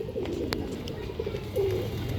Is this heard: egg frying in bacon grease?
no